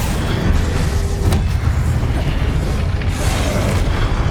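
A Confringo blasting spell from the Hogwarts Legacy video game erupts in a loud, dense roar of booming explosion and crackle that stays strong and continuous throughout, with no voice.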